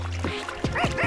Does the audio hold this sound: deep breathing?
no